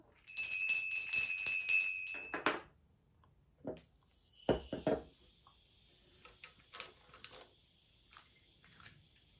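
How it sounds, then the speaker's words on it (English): A bell is rung to open a creative writing session, a bright sustained ringing with clear tones for a couple of seconds, followed by a few soft clicks and handling sounds in a quiet room. "Let's ring the bell, and here we go."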